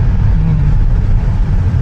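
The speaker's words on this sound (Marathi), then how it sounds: "समोर पण आज गाड्या भरपूर दिसत आहेत." Steady road traffic on a highway near Vashi Naka toward Pen, Raigad, with many vehicles passing in both directions, forming a continuous, fairly loud low rumble with no breaks.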